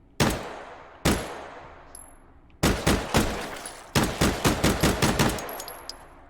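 MK22 Mod 0 semi-automatic pistol chambered in 9x19 firing loud, sharp shots that ring out one or two at a time, then come in a quicker string of rapid reports, each one trailing off in echo.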